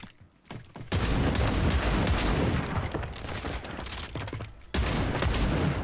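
Rapid bursts of BAL-27 rifle gunfire in the Warzone video game, loud and dense, breaking off briefly near the end before resuming.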